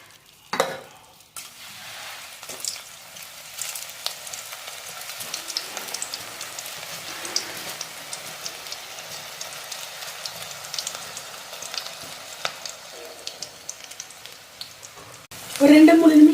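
Onion pakoda batter dropped into hot oil sizzles and bubbles steadily at close range, with a louder burst of frying near the end and no one talking.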